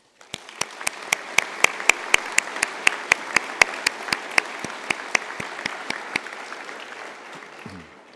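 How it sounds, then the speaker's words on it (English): Audience applause at a University of Galway winter conferring ceremony in an indoor hall: a broad, steady wash of many hands clapping, punctuated by a regular series of sharp, loud individual claps close by. "with a warm round of applause"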